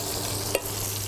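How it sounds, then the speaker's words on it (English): Steak about three-quarters of an inch thick sizzling on a grill, giving a steady, even hiss of frying with one brief sharp click partway through. "All right, the steak is starting to sizzle."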